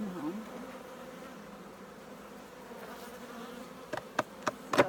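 Honeybees hum faintly and steadily around hives being combined for winter, with a few sharp knocks or clicks near the end.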